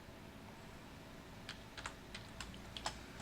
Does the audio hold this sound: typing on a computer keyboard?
yes